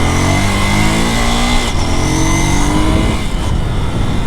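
A motorcycle with traction control revs loud and close while being ridden in second gear, the engine note climbing steadily and then dipping with a gear change.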